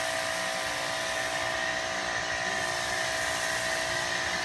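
An electric 2000 psi pressure washer runs with a foam lance, laying down thick Angelwax Fast Foam snow foam. It makes a steady, continuous motor whine with spray hiss, unbroken from start to finish.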